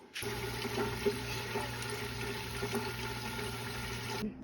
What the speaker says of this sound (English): So let's get this water filled up.